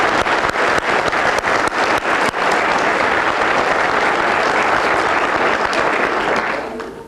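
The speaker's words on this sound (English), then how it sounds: "Let's give him another round of applause," Audience at a school speech contest for fourth and fifth graders bursts into sustained applause, dense clapping filling the room loudly for about seven seconds before starting to fade at the end.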